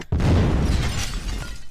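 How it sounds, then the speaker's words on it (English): A WWII video game explosion hits as one loud, close blast that rolls into a heavy, sustained rumble. "I'm hearing a lot of explosions."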